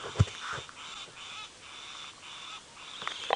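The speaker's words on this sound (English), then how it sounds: "A starling has just made a lot of noise." A starling calls loudly in a series of harsh, repeated bursts during an outdoor safari drive at sunrise, fairly close and standing out over faint background ambience.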